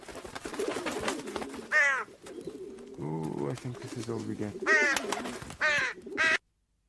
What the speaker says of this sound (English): Now some crows have come.